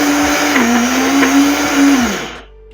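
A Silvercrest blender grinding peanuts into peanut butter, a loud close motor whine that holds steady, wavers slightly under load, then winds down and cuts off near the end.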